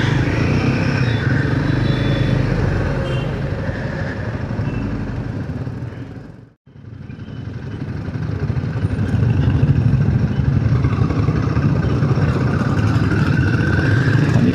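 A group of motorcycles on a countryside ride, engines droning steadily and loudly throughout, with one brief sharp dropout midway before the rumble resumes at full strength.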